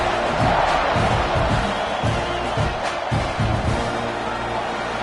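A football stadium crowd builds into a loud, sustained roar before kickoff, with scattered shouts and whoops and a few heavy thumps, dense and continuous throughout.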